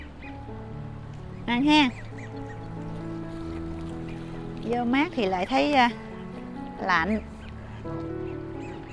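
Ducks quack loudly in short bursts, one call and then a cluster of several, while being fed in a Vietnamese garden, with a person talking throughout.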